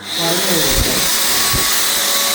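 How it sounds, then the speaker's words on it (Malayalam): A vacuum cleaner switched to blowing mode pushes powerful air out through a connector, making a loud continuous close-up whoosh and hiss with a steady whine. A couple of dull knocks break in, with no one speaking. "ഇതിപ്പോൾ ഓൺ ചെയ്ത് കഴിഞ്ഞാൽ നല്ല പവർഫുൾ എയർ ആയിട്ട് എയർ പോയിന്റ് ചെയ്യാൻ വേണ്ടിയിട്ട് ഈ കണക്ടർ നമ്മൾ ഇതിലേക്ക് കൊടുത്തു കഴിഞ്ഞാൽ"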